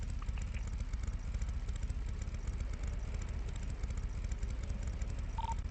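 Two-cylinder motorcycle engine idling and rumbling with its exhaust in a GTA roleplay game, a steady close, loud low drone throughout with a brief tonal blip near the end.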